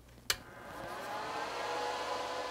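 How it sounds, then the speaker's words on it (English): Watch parts dryer blowing warm air, a steady whirring rush that builds and holds after a brief click at the start, fairly quiet with no talk. "By easing the dish into the periphery of the dryer, the parts get the warm moving air, but don't get blown around as much."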